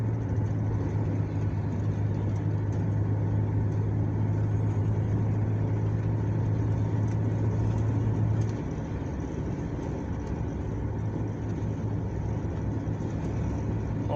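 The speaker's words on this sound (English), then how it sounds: "My car is shaking like a motherfucker right now." A 1989 Plymouth Acclaim on the highway, shaking and needing a tire, gives a steady loud road and engine drone with a low hum that drops away partway through, no talk heard.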